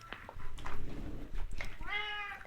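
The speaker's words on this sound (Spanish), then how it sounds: "El gato quiere entrar." A cat meows to be let in, with one rising, drawn-out cry near the end over a low background rumble and faint earlier sounds, close and clear.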